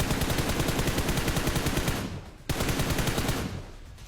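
Rapid automatic gunfire in the battle royale game BGMI, dense sustained bursts of loud shots, a brief pause partway, then another burst that trails off.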